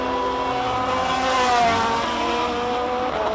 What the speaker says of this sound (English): Renault engine is howling in there.